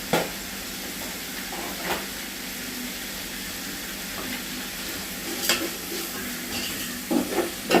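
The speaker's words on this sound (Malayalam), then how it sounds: "ഇത് നല്ലോണം ഒന്ന് വഴറ്റി കൊടുക്കുക." Food sizzles steadily as it is sautéed with salt in a pan, with a constant frying hiss and occasional scrapes and clinks of the stirring spoon against the pan, no voices.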